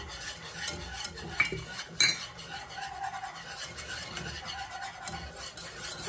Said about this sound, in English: slowly add in your flour and whisk and whisk and whisk until it's all combined